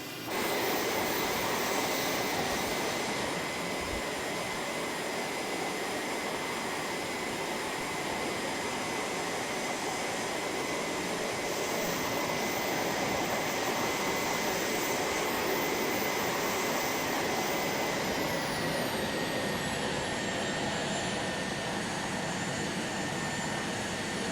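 Steady, loud jet engine roar of an M-346 in a flight simulator, heard from outside, droning on without a break, broadband and continuous, with a faint high whine sweeping near the end.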